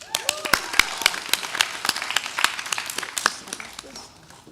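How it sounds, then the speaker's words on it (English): Audience applause for a homecoming royalty candidate at a University of Kentucky showcase: dense, fairly steady clapping from a crowd with sharp individual claps standing out, lasting throughout before tapering slightly. "please give a round of applause for our first candidate, Grace Bush"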